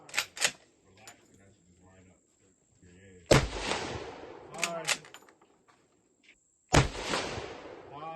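A Steyr-Mannlicher M95 rifle fired at an outdoor range: two loud, close, sharp shots, each trailing off in a rolling echo, with people talking quietly between the shots.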